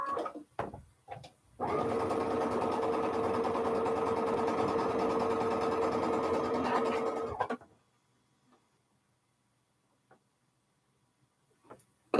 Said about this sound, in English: And sew those together so that I can take my final string block off the machine.